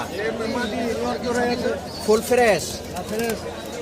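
Pigeons coo in low, rolling repeated calls at a bustling pigeon market in Bangladesh, close and steady, blended with the murmur of people talking nearby.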